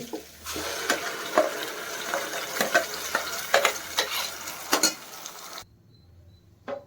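Village-style fish curry with ground masala bubbling in a pot, steady close sputtering and popping with stirring knocks that stop abruptly near the end.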